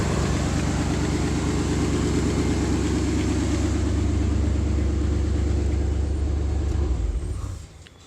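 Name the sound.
V8-swapped 1992 Chevy S10 engine running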